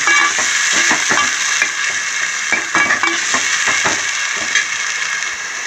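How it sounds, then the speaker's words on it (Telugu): Mutton curry masala frying with onions in a hot pan, with a loud, steady sizzle and repeated close scraping strokes of a spoon stirring through the mixture. "ఉల్లిపాయలతో పాటు ఇది కూడా ఫ్రై అయిపోతుంది"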